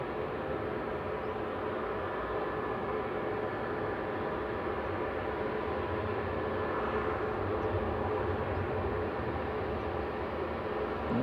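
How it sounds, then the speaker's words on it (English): An EasyJet Airbus A320neo begins its takeoff roll at Manchester Airport, a constant broadband rumble of jet engines heard from a distance, even in level and without talk. "The EasyJet to Malta's lined up next. Flight 2273, A320-200 Neo"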